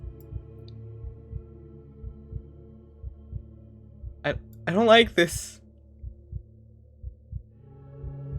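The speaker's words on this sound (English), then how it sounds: "Why is there a heartbeat?" A steady, slow heartbeat pulses through the video game The Children of Clay, with regular low thumps close and clear throughout, and someone briefly speaks over it midway.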